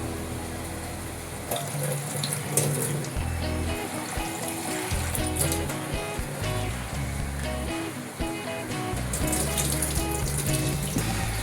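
Soaked dried Bombay duck fish are rinsed in water by hand, with steady running and sloshing water plus scattered clinks and splashes throughout, close and fairly loud.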